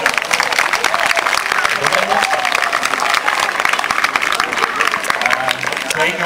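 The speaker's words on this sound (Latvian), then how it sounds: "Aplausi!" A crowd of children, parents and organizers claps loudly and continuously at the opening of a 2014 tournament in Salacgrīva, with cheering voices and chatter mixed into the dense applause.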